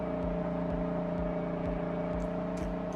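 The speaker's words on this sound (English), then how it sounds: "The engine sounds for this truck are actually really good." A truck engine in Farming Simulator 22 drones loud and steady, with a low rumbling idle pulsing in a regular rhythm and no talk over it.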